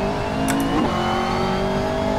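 A race car in the Assetto Corsa video game revs and shifts up with a throttle blip, a loud steady engine tone with a quick pitch dip and recovery at the shift.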